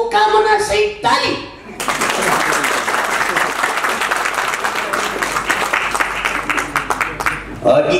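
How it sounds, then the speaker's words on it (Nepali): An audience at a Nepali comedy programme breaks into sustained applause after a short stretch of speech. The dense clapping carries on steadily for several seconds, and a voice returns at the end. "एकचोटि यो कार्यक्रमको पूर्ण सफलताको कामना सहित ताली"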